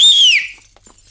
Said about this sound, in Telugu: ఈ విజిల్ ఎవరికి?